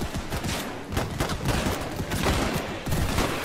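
Dense, rapid gunfire rattles through a Holdfast: Frontlines WW1 battle, with overlapping rifle and machine-gun shots cracking almost continuously at a steady, loud level.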